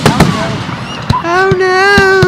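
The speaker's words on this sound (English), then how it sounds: "Let's see how many fireworks we can hit." Fireworks struck with a golf club go off in several sharp, loud cracks spaced across the moment, mixed with a wavering high whistle, while people's excited voices sound close by.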